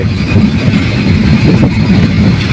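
The Rupsha Express rolls along the tracks with a loud, steady rumble and faint rhythmic rattling of wheels, close by and continuous.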